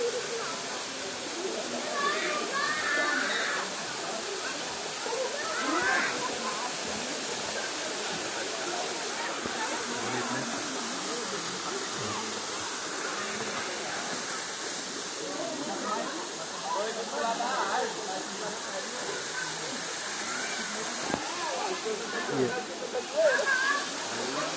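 A cascading waterfall in the Serra de Caldas Novas gives off a steady, dense roar for the whole stretch, with faint voices now and then.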